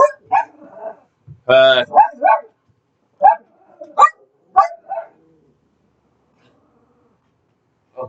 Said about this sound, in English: Oh, there's a dog. There's a big dog outside.